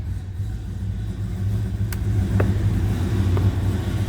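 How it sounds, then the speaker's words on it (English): A 1969 Plymouth Road Runner with its numbers-matching 383 high-output V8 idles with a steady, deep, rumbling burble, close by and loud, with a couple of faint clicks over it and no talking. "See how easily it starts, nice it sounds."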